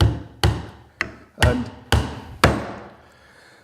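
A Vaughan 20-ounce all-steel claw hammer taps in a small pin with six sharp, evenly spaced metallic strikes, each ringing briefly before the next, close and loud.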